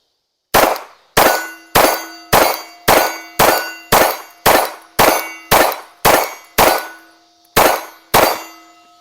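Gunshots strike a steel target, ringing out in about thirteen sharp metallic dings spaced roughly half a second apart, each decaying quickly, loud and close with no voices.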